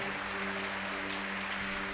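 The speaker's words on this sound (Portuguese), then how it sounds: "Dê um aplauso de crente que está vivo" A church congregation claps together in a steady, continuous burst of applause that fills the room at moderate level, with a sustained organ or keyboard chord ringing underneath.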